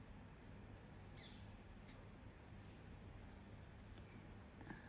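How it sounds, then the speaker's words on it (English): Pencil shades the shadow areas of a drawing of small mushrooms on paper, a faint, continuous scratchy scraping with soft strokes, very quiet and close. "Okay, so we're putting this pencil in the shadow areas."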